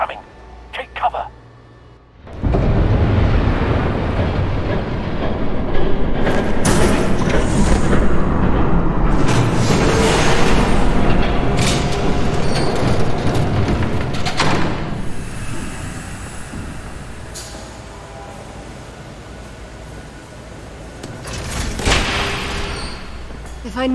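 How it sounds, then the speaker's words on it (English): A train thunders past in Batman The Telltale Series, building into a loud, sustained roaring rumble that holds for several seconds before slowly fading under other game sounds. "There's a train coming. Take cover."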